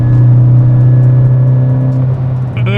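A Volkswagen MK6 GTI with an 034 Motorsports Stage 1 tune runs loud and close, a steady droning engine note with strong low harmonics that holds throughout and dips briefly near the end.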